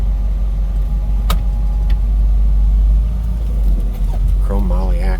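A 1976 Ford Bronco with a 302 EFI V8 and 4R70W overdrive transmission rumbles steadily up close as it pulls away, its low engine drone continuous, with a voice speaking briefly near the end.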